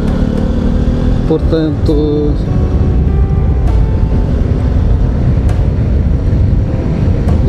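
A Honda CB125R motorcycle cruises on a motorway, its engine a loud, constant drone buried in heavy wind rush, with a rider speaking briefly over it.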